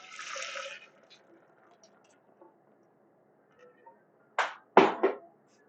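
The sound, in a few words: hot clam chowder soup being poured into a container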